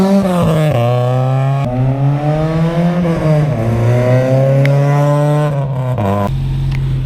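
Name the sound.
car driving by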